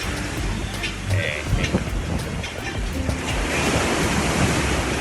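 Waves lap and wash against the stilts beneath a restaurant standing over the water, a continuous broad surging hiss with some wind noise, and a voice talks faintly under it.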